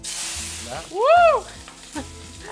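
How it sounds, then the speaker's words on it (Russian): Onions hit hot oil in a kitchen pan and sizzle loudly and close, with crackling bursts, a brief whistling swoop in the middle and stirring noises. "Поэтому мы начинаем жарить лук, я советую слегка отойти."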